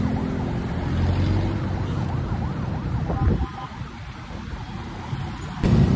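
An ambulance siren wails in a steady rising-and-falling pattern, fairly close, over a continuous rumble of road traffic before cutting off.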